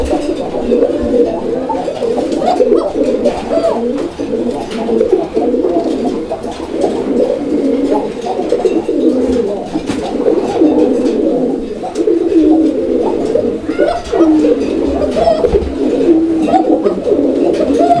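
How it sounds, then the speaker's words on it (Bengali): Raj-golla pigeons, a black-coloured pair at a pigeon farm in Bangladesh, coo continuously in overlapping, throaty rolls, loud and close, with several birds calling at once over a steady background. "এটা কি কবুতর ভাই রাজগোল্লা"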